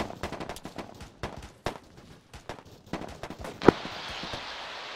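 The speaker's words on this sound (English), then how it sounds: "Guy shooting from a window with an LMG at northeast." Light machine gun fire in a military shooter game, with repeated short bursts of rapid gunshots at mid distance and one sharp, louder shot near the end.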